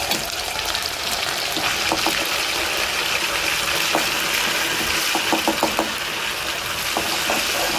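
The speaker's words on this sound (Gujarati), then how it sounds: "હવે ઘી ગરમ કરી નાખ્યું છે અને એમાં છે ને ઘીમાં વઘાર મારી દેવાનો" Spices tempering in hot ghee crackle and sizzle close up, a dense steady frying hiss with scattered small pops throughout.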